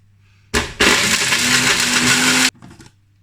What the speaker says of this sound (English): So I'm gonna blitz them in my NutriBullet